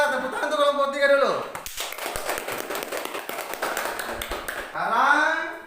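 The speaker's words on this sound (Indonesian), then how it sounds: "tepuk tangan untuk kelompok 3 dulu" Students in a classroom applaud a student group, with a burst of dense, scattered clapping that lasts several seconds between the teacher's spoken phrases before and after it.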